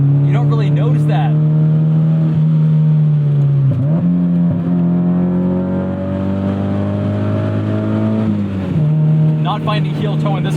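A Mazda MX-5 Miata engine accelerating hard through a canyon, with strong rising harmonic revs that dip briefly at gear changes and climb again, loud and close from inside the car.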